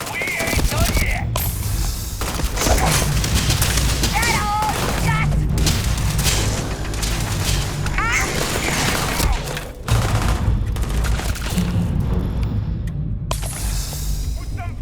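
Sustained gunfire in the sci-fi game Starfield, bursts of shots and booms repeating across a loud firefight while voices shout over the action.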